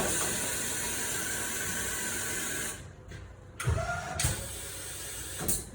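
A Corghi AM28 tire changer's head lowers with a continuous mechanical hiss that cuts off abruptly, followed by a few heavy clunks and ratcheting knocks from the machine, close by and with no talking.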